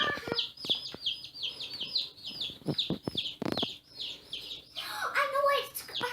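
Newly hatched baby chicks peep repeatedly in rapid high chirps, close and lively, with short pauses between bursts and a few soft knocks.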